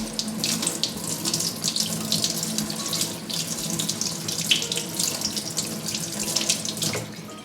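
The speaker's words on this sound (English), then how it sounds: "I'm immediately going to rinse this one with cool water like I did last time." Cool tap water runs steadily into a sink as a hoya plant is rinsed, a close, continuous splashing hiss with small shifts in texture as the plant moves under the stream.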